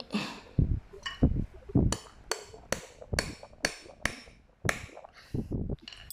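A fastener is hammered into a woven basket while a handle is fitted, giving a series of sharp, separate taps at an uneven pace, close by and fairly quiet.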